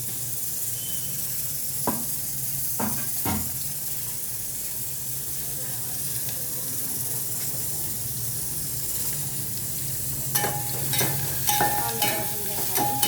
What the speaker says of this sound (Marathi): कांदा भाजून घ्यायचा.